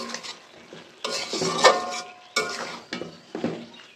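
Spatula scraping and stirring vegetarian noodles with chopped coriander and garam masala in a pan, several irregular scrapes and clinks with soft sizzling underneath, close and fairly loud, no talking.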